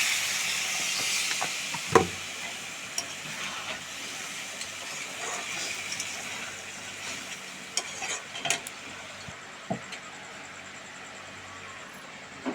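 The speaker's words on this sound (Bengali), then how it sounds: "সবজির তেল ছেড়ে দিয়েছে, এই যে হালকা জল দেবো।" Vegetables frying in oil hiss and sizzle steadily once a little water goes into the pan, a bright broad sizzle that slowly fades, broken by a few sharp utensil knocks and scrapes against the pan.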